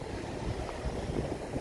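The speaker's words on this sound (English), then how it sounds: "Nice and windy here by the ocean this morning." Wind gusts by the ocean at Waikiki in the early morning, a brief broadband rush and rumble buffeting close to the microphone, alone with no voices.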